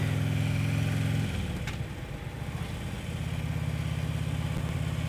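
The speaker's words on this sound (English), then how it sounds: "I'm gonna take the bike for a ride" A motorcycle engine idles nearby with a steady low throb that dips briefly in the middle and then settles back into an even idle, with no talking.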